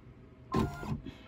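A sewing machine runs a short backstitch of a couple of stitches: one quick, close mechanical whir lasting under a second, alone with no talking.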